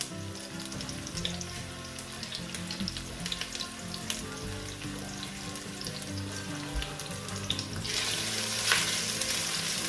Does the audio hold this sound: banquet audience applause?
no